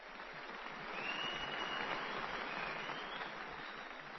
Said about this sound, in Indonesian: Tepuk tangan untuk Saudara Kamarudin bin Ahmad.